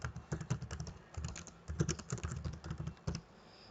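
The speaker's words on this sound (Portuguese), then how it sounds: "basta eu começar a digitar texto" Rapid, irregular keyboard typing on a computer while entering text in Inkscape, close and moderately quiet, with uneven bursts of clacking keys and brief pauses, no voices.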